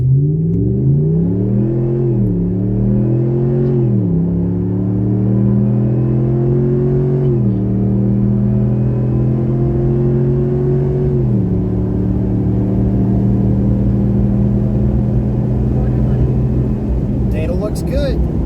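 A Ram 1500 pickup truck fitted with an Airaid Junior cold air intake accelerates hard under high load, its engine droning loud and close as the pitch climbs repeatedly through successive gear shifts.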